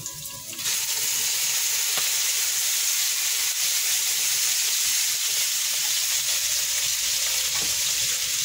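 Corned beef for pancit bato dropping into a hot pan, breaking into a loud, steady sizzle and hiss that holds evenly after a quieter first moment, no talking.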